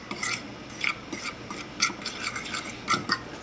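A utensil stirs flour mixed with cayenne pepper or Cajun seasoning in a bowl, giving close, repeated scraping and tapping strokes in an irregular rhythm.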